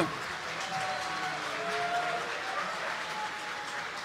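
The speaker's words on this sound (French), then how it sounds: "Un tonnerre d'applaudissements pour eux, s'il vous plaît." An audience applauds the casters at a Hearthstone event, a steady, fairly quiet wash of clapping that continues evenly throughout with a crowd-like hum.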